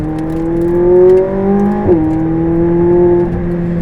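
A 2016 McLaren 675LT engine with a titanium exhaust hums with a steady harmonic tone, swelling slightly, then a brief blip and shift before settling back into a smooth, close drone.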